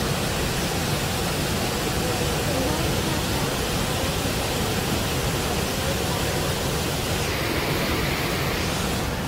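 A waterfall roars in a continuous, broadband rush of falling water, loud and steady throughout with no breaks, heard outdoors at night.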